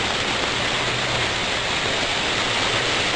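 Water pouring steadily out of a patented curb drainage filter into a tub, a dense continuous rushing wash that stays constant and fairly loud throughout with no talk.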